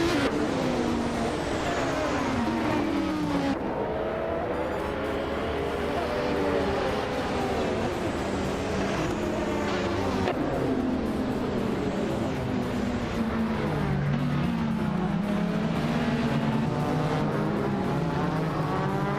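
Race car engines, led by a 2018 BR Engineering BR1 LMP1 prototype at Silverstone, scream through rising and falling revs in a continuous loud drone, with occasional shifts as cars pass.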